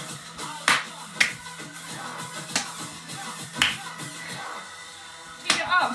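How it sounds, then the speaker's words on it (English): Hand claps during Zumba squats at a fitness class: a handful of sharp, separate claps at an uneven pace over steady background music. "Squat and clap."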